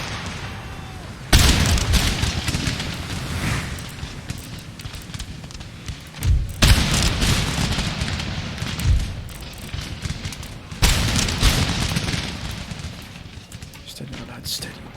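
Booming artillery and crackling musket volleys in Empire Total War roll through a busy battlefield soundscape, with three big loud bursts separated by rumbling, sustained gunfire and ambient battle noise, no talk heard.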